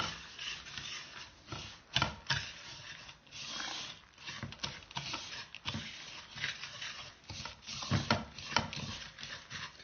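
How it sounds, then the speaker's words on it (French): Cookie dough with chocolate being stirred gently in a bowl, a soft, repeated scraping and rubbing that comes in uneven strokes, close and fairly quiet. "On commence à mélanger tout doucement."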